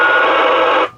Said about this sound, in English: Got the bleep tone.